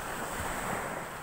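Waves washing at a beach, a continuous broad roar of surf with some wind noise on the microphone, steady and fairly loud with no voices.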